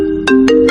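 An Apple mobile phone ringtone plays a short, bright repeating tonal melody, close and clear, with no other sounds around it.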